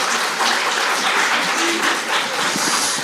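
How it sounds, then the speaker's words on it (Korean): Audience at a packed policy forum in Busan claps to welcome a party's city chapter chair to the podium for opening remarks; dense, steady applause fills the whole stretch without pause. "힘찬 박수로 모시겠습니다."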